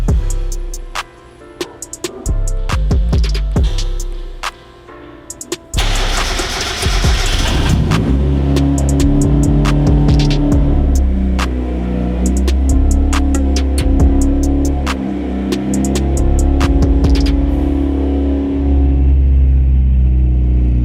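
A turbocharged Mazda Miata drives off alignment blocks, its engine rumbling loud and close with a few revs, accompanied by clicks and knocks as it rolls off.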